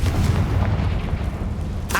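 A Confringo blast spell fired in the Hogwarts Legacy video game gives a loud, deep rumbling boom that stays heavy throughout, with a short bright burst at the very end.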